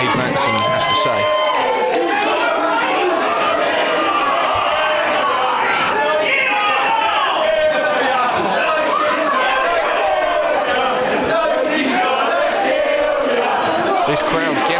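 A wrestling crowd jeers and heckles a wrestler, loud and continuous with overlapping shouts, chatter and scattered claps filling the arena throughout.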